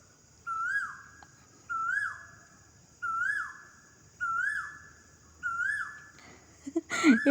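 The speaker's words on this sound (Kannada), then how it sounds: "ಕೋಗಿಲೆ ಕೂಗ್ತಾ ಇರೋ ಶಬ್ದ ಬಂತು" An Asian koel's rising, whistled call repeats five times at even intervals from a backyard, loud and clear against quiet background, followed by a short burst of other sounds.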